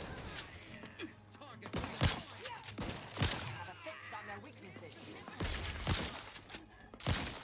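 Heavy shotgun blasts in the video game The Outer Worlds 2, five or six sharp booming shots spaced about a second apart over game ambience, with someone talking between them.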